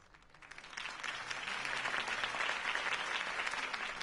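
A crowd applauds after a political campaign speech in a Batman video game, steady dense clapping that swells in over the first second and holds at a moderate level.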